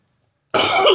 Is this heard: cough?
yes